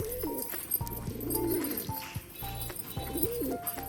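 Rajshahi pigeons coo softly in a few low, rolling calls, with faint background noise and no talk.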